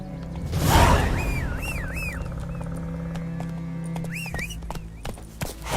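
Soft hoof clip-clops under a steady hum, with a brief whoosh early on and a few rising electronic tones, as a horse trots up in The Witcher video game.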